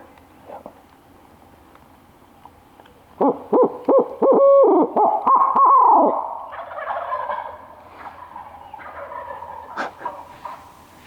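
A turkey hunter gives a loud imitated owl hoot, several rapid hoots rising into a long quavering call, followed by faint wild turkey gobbles answering in the distance.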